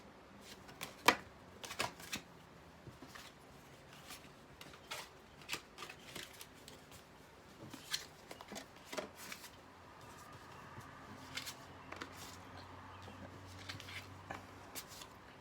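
Tarot cards being shuffled by hand, a series of quiet crisp riffles and soft slaps spaced irregularly through the stretch, close and otherwise quiet.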